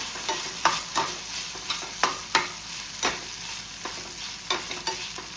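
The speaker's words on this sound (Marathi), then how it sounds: "आतां घालता आले लसूण पेस्ट, मिक्स करता." Ginger garlic paste being stirred in a hot pan for egg bhurji, soft sizzle beneath a steady run of spoon scrapes and taps roughly every half second.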